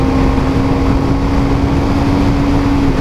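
A BMW G310R naked motorcycle pushed harder along a national highway at around 120–130 km/h, giving a steady, loud engine drone with a fixed tone and constant wind rush and no speech.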